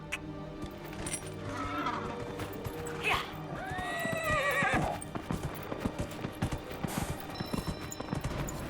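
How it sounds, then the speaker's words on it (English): Horse hooves clip-clop and a horse whinnies in the Dragon Age Inquisition video game, with steady hoofbeats throughout and a rising neigh in the middle, all over a game soundscape. "Mount the horse."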